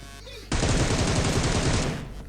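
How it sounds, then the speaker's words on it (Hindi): Rapid automatic gunfire in a battle royale video game, a loud sustained burst of shots for about a second and a half, alone with no talk. "तो इस साइड से एक बाबूराव बॉट फायर करके मुझे वहाँ पे बुलाने की कोशिश कर रहा था"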